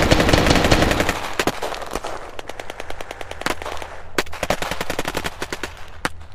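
Tank gunfire from a T-14 Armata in a toy battle game opens as a loud dense roar, then breaks into a long run of sharp rapid shots and cracks, irregular and close.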